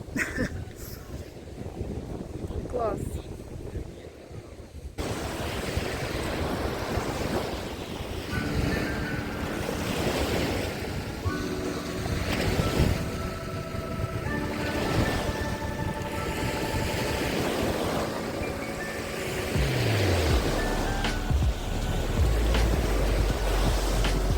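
Black Sea waves wash onto the Odesa shore between Arkadia and Delfin beach in a continuous surf, with wind buffeting the microphone and faint background sounds.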